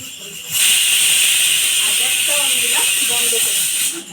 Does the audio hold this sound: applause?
no